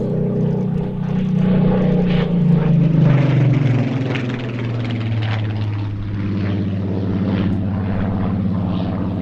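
A late-war RAF photo reconnaissance propeller aircraft, once with the Central Photographic Reconnaissance Unit at Benson, drones steadily and loudly nearby, its engine note rising then settling into a sustained roar.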